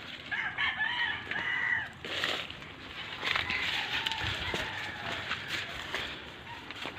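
Chickens cluck and a rooster crows at a farm coop, fairly close and clear, with other fowl calling in the background.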